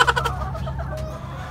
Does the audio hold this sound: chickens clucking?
yes